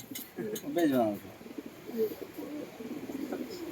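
Andhra pigeons kept for sale coo nearby in soft, throaty bursts, mixed with people talking close at hand.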